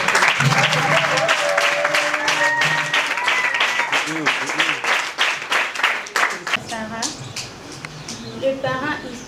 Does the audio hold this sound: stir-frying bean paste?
no